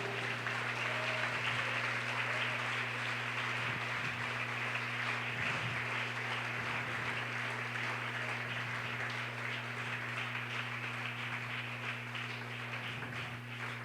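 Steady applause from a church congregation during a morning service, continuous and moderately distant, over a constant low electrical hum.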